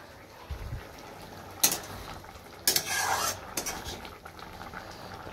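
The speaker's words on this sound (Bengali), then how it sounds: "আর এখানে একটু আলু ছোলার তরকারি করছি।" A spoon scrapes and clinks around a pan of potato and chickpea curry, with a few louder knocks and scrapes over a low, steady sizzle and no talking.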